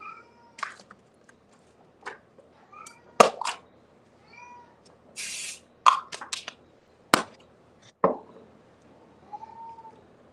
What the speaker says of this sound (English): thank you guys for being patient with my poor cat